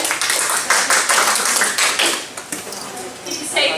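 Audience applause at a church security meeting: a steady wash of many hands clapping at close range, with a voice talking over it.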